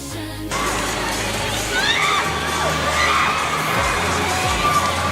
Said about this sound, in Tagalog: Nice crowd here at the Rizal Memorial Coliseum.